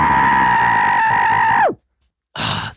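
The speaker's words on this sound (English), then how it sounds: "I'm gonna go grab my pillow and scream into it now" Person screaming into a pillow: a long, loud, muffled sustained cry that drops off abruptly, then a short pause and a burst of breathy noise.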